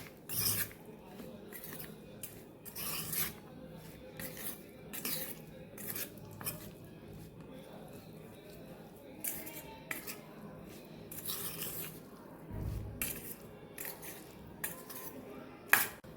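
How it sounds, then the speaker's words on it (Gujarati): A spoon stirs Kathiyawadi peanut, onion and tomato chutney with oil in a bowl, making close, quiet scraping and rasping strokes with occasional metal clinks at an irregular pace. "બધું આપણે મિક્સ કરી દેવાનું છે"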